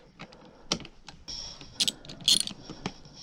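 Screws are taken out of the fuel tank of a 2014 KTM 390 Duke with a hand tool, giving close, sparse ratcheting clicks and small metallic ticks in short bursts over a quiet background.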